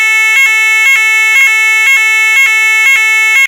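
ESSER fire alarm sounding loud and close, a harsh pulsing electronic tone that repeats roughly twice per second in a regular steady rhythm, alone and without voices.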